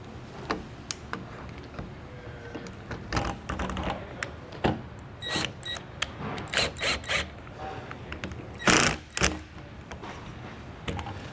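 Screws being driven into a Bauer camper door lock with a deadbolt in place: a string of short clicking and ratcheting bursts, close and fairly loud, with brief pauses between turns.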